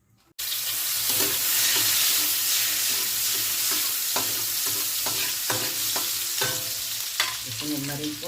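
Cooking oil sizzles loudly in a pan while pork pata with monggo is prepared. It starts abruptly after a brief silence and runs as a steady hiss with scattered crackles and pops.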